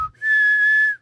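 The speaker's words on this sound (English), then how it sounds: "I can whistle in and out" A person whistles one steady, sustained high note, close and fairly loud, held alone for nearly a second after a short pause.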